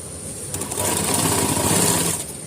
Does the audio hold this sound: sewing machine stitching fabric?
yes